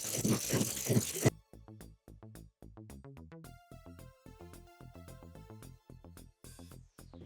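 A sewing machine runs a zigzag stitch using a B foot on a DIY tube top, giving rapid mechanical clicking bursts in short runs with brief pauses, close and clear after a moment of noisier handling.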